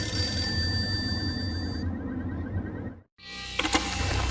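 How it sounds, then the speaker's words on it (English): A payphone in the video game Max Payne rings with a loud, continuous electronic trill over a low ambient game background, then cuts off abruptly before faint game sounds resume. "The payphone started to ring."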